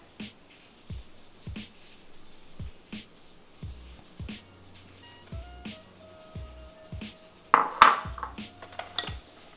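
White chocolate mousse is mixed in a bowl, with regular scraping and tapping of a utensil against the bowl, followed by louder clattering clinks of dishes toward the end.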